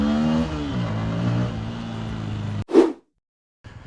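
A Bajaj motorcycle engine revving after a throttle body clean: a loud, close, humming engine tone falls and holds, then gives a short sharp burst before cutting to silence and returning faintly.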